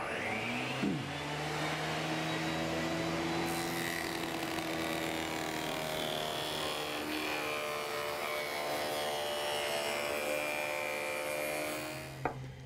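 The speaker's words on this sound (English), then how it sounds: "Let's go ahead and cut our dado." Table saw cutting a dado in a wooden board for yard game stilts, a steady loud whine of the spinning blade sustained for the whole stretch, with the pitch shifting slightly as the wood feeds through.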